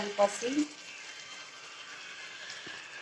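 Whole spices (cardamom, fennel, cloves, star anise, kalpasi, cinnamon) frying in melted butter, a soft steady sizzle throughout, with a short burst of speech over it at the start.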